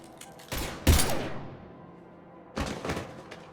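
Bursts of gunfire in the video game Mass Effect 3, two short volleys of rapid shots with a heavy thud, separated by a quiet gap, close and moderately loud.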